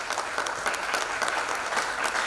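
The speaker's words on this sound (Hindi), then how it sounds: "सभी से रिक्वेस्ट करता हूं कि जोरदार तालियों की गड़गड़ाहट से अपनी उपस्थिति का" Dense audience applause at an exhibition inauguration, a thick continuous roar of many hands clapping with slight swells, loud and steady for the whole stretch.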